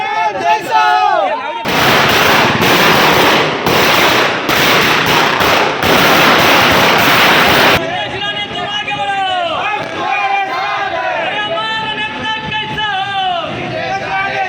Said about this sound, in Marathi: कणकवली मतदारसंघातील कार्यकर्त्यांकडून चौकात फटाके फोडण्यात आले